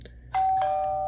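A Lock Connection CL-01-BT Bluetooth smart lock sounds a short steady electronic doorbell chime after a faint blip, holding one clear tone loud and alone to the end.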